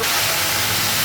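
Water poured into a hot pan holding a goat or mutton head with salt, turmeric and cumin powder, giving a loud, steady broadband hiss of steam that runs the whole second with no talk.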